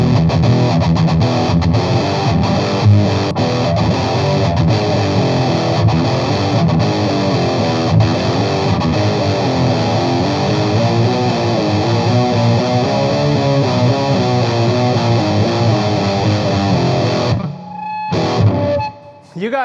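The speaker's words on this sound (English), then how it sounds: "see what the Metal Zone sounds like with this single coil bridge pickup" A Fender Aerodyne Telecaster on its single coil bridge pickup plays through a Metal Zone distortion pedal, giving loud, heavily saturated chords that ring steadily, then cut off into a brief hum and some string noise at the end.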